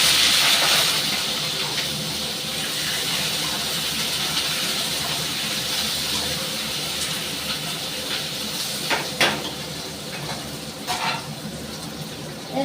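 Potatoes, pointed gourd and tomato hit hot oil in a pan, a broad steady sizzle that stays loud throughout with a few small pops and clatters later on.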